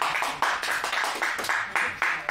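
Audience at a zoning board meeting applauding, a steady patter of claps with regular, evenly spaced accents, moderately loud and with no talking over it.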